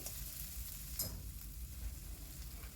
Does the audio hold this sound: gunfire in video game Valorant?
no